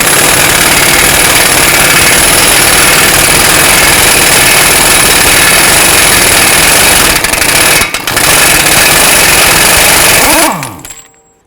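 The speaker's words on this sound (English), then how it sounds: "we're going to remove the axle nut" A pneumatic impact wrench with a 30mm 12-point socket hammers loose the axle nut on a 2012-17 Toyota Camry, a loud, continuous rattling buzz close by that briefly stutters and then spins down to a stop.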